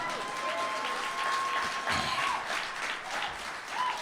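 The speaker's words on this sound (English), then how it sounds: "Can I get an applause on that?" An audience at a Seattle press conference introducing a new women's hockey team applauds steadily, with a whistle-like tone and some cheering over the clapping.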